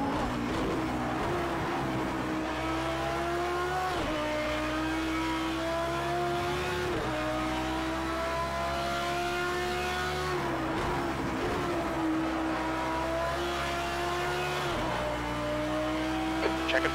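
A GT3 race car engine at Watkins Glen in a racing video game, rated at 475 horsepower, revs hard through repeated upshifts, each gear climbing in pitch before the next change, with a loud, continuous sound throughout.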